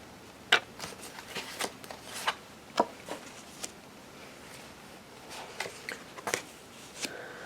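Tarot cards being shuffled by hand, heard as sparse, quiet riffling snaps and soft card flicks that come in irregular bursts over faint room noise, with no talking.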